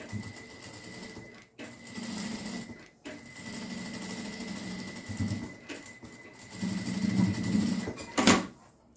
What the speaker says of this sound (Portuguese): Eu vou fazer uma costurinha aqui na borda dessa parte verde